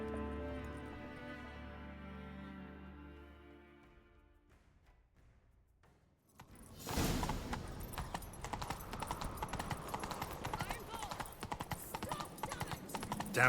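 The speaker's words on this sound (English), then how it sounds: "Grab a horse, we'll chase him down." Horse hooves clip-clopping in The Witcher 3 on PC, after a stretch of game music, setting off into a steady rapid gallop with rhythmic thuds and clatter over a busy game soundscape.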